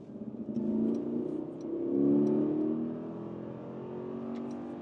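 A 2025 Mercedes GLS facelift with a mild-hybrid V8 accelerates hard in sport mode. The engine note rises in two smooth, swelling sweeps, heard as a muffled, moderately quiet hum from inside the cabin.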